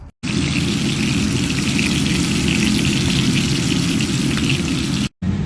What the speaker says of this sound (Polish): zaczynam smażyć